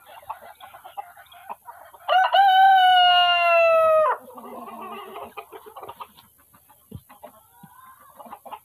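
A Rhode Island Red rooster on a farm plot lets out one loud, close crow lasting about two seconds, with softer clucking and farmyard chatter before and after.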